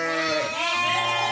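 Lambs bleating in a pen on a mountain sheep farm, one loud, close, wavering bleat held for over a second.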